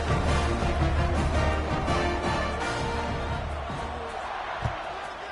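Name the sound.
stadium crowd buzzing after a touchdown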